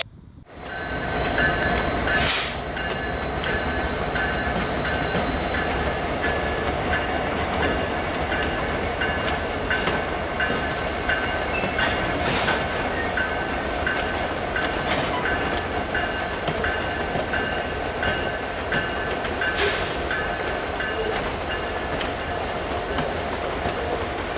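A long Canadian Pacific freight train with Norfolk Southern locomotives rolls steadily past into a siding, with continuous rumble, wheel clatter and occasional sharp squeals.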